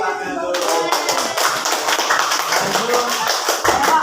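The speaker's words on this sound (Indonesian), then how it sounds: "beri tepuk tangan dulu" A group claps hands together during a teachers' academic coaching and supervision session, steady and fairly loud clapping that starts abruptly and continues for several seconds, with some voices in the background.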